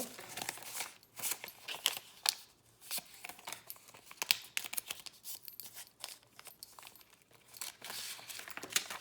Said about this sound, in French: je plie tout ça pour que ça rentre dans la petite enveloppe.